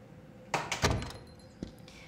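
A car door shuts with a couple of solid thunks close by, then a quieter knock follows a moment later, with no talking.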